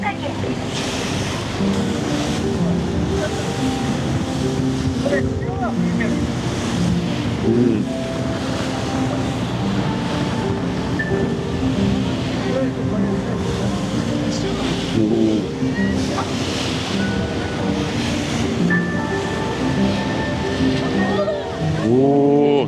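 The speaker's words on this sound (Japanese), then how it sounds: "これより船は対馬海峡に出ます。" A ship heads out into the Tsushima Strait off Iki Island. Steady wind and rushing waves carry on throughout at a loud, close level, with a low engine rumble underneath.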